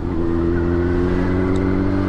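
A Yamaha FZ6 600 motorcycle engine holds a steady, loud, close rumble with sustained harmonics while revving at a constant pitch, alone without voices.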